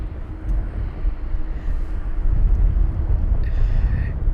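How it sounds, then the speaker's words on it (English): A Finnair A320-200 jet arriving at London Heathrow from Faro, a loud, steady low engine rumble and roar that builds slightly as it nears, with no voices. "It is a BA flight, but it's a Finnair A320-200 with reg Oscar Hotel Lima X-Ray Bravo, arriving from Faro"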